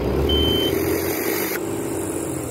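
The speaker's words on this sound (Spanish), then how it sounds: "Vamos a escuchar cómo trabaja la válvula. Ahí cortó antes de las 1800, vuelve y abre." Foton Auman truck engine fitted with a Marclais ecological valve, running steadily near the cab with a continuous low drone and a brief high whine, the tone shifting abruptly midway as the valve cuts.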